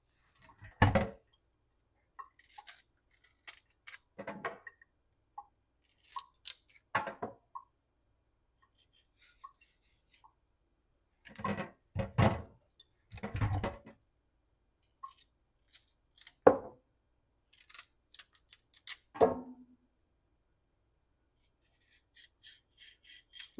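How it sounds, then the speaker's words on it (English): A knife scoring the skin of green plantains, short crisp cuts and taps coming in separate bursts with quiet gaps between them, close and fairly soft, with no talking. "I gently score it because I'm going to boil it in the skin"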